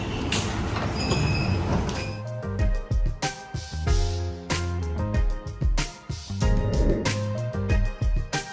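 A metro train pulls into a station, with squealing wheels, rumbling carriages and a string of sharp metallic clanks and hisses as it slows, loud and close.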